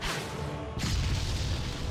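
A boom goes off in the video game Anima: Gate of Memories, a sudden broadband blast about midway that swells over a steady low rumble and stays loud to the end.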